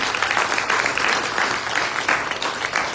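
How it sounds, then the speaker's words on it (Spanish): Lecture audience applauding a guest speaker at a master conference on political decisions, a dense, steady wash of many hands clapping that holds evenly for the full stretch. "quiero que le brindemos un fuerte aplauso"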